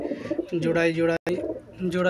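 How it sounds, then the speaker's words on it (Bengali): Rajshahi Giribaz roller pigeons coo softly at a pigeon farm. Their low, warbling calls come in two stretches split by a brief gap, under and around a man's speech. "এই দেখেন অনেক সুন্দর কবুতরগুলো, অনেক সুস্থ।"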